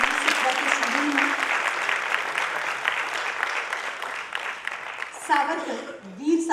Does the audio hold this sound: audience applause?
yes